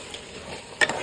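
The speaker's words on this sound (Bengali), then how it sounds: "একটু নাড়া দিয়ে করে দিচ্ছি" Rice and meat stirred in a large cooking pot, a soft sizzle with one short scraping clatter near the end, close and brief with no talking.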